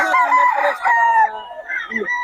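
A rooster at a weekly chicken market in Bocaue crows in a long, loud, close call that trails off, then gives a shorter second crow, with no talk over it.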